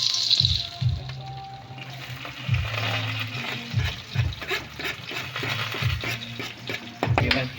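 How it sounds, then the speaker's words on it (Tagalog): Rice frying in oil for Filipino sinangag with white onions, a steady close sizzle broken by repeated scraping and stirring strokes of a utensil against the pan. "Sinangag na rice guys."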